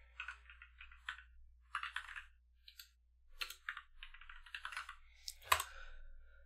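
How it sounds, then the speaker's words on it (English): Typing on a computer keyboard: irregular bursts of close, light key clicks with short pauses between words, ending with a sharper keystroke, over a faint low hum. "We can copy that, but I'll just type it."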